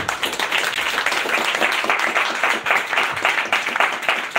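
Church congregation in Bondoukou applauding together, dense steady clapping that fills the space throughout at close range, with no clear voices over it.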